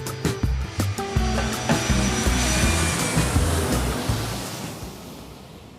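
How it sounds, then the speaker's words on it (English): A loud, rushing airplane roar builds and swells with rumbling low-end surges, sustained for several seconds before gradually easing off. "make sure your tray tables and seats are in their upright positions as part 2 of Joanna's round trip story gets ready for takeoff"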